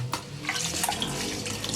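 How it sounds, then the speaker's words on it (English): Rice is rinsed by hand under a running faucet in a sink, water splashing and trickling steadily with soft sloshing as the grains are swirled, close and continuous with no voices. "I'm just going to wash it with my hands like this. Just gonna wash the rice to get the first dirty stuff out the way."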